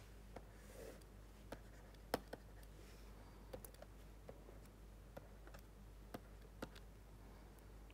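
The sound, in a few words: lecturer drawing a plate element on the board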